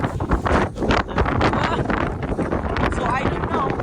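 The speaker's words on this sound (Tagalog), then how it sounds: "Grabe yung hangin." Strong wind during a snowstorm in the Netherlands buffets the microphone in loud, rough gusts that roar and rumble almost without pause.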